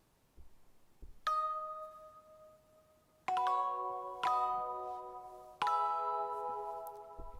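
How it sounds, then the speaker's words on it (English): The GarageBand Fairytale Bells instrument plays bright chime chords, struck four times and left to ring. A couple of faint taps come first, and each chord decays slowly into quiet. "So let's take you to this Fairytale Bells"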